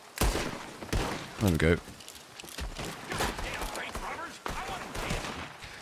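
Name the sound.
gunfight gunfire in video game Red Dead Redemption 2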